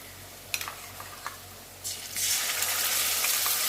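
Spice paste of ginger, green chilli, tomato and cumin hits a hot pan: a few faint clicks and stirs, then a loud, steady broadband sizzle swells up and holds, close by, with no talking.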